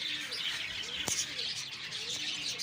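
Pigeons chirping and calling softly during a pigeon-flying contest outdoors, a steady bed of small bird calls with one sharp click near the middle, faint and continuous.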